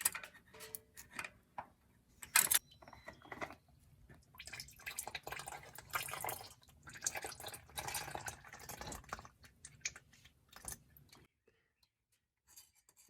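Used motor oil drips from the removed oil filter of a 2007-2014 GMC Yukon or Chevy Tahoe into a drip pan below. The drips come as close, irregular ticking splats and trickles, with no talking, and stop near the end.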